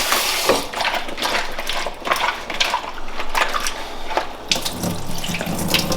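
Tap water runs steadily into a sink over cut potatoes, splashing with a few light knocks, continuous and close.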